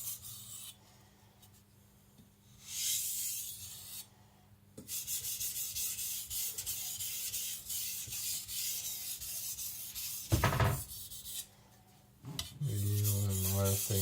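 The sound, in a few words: stropping a Tojiro Shirogami nakiri knife to remove the burr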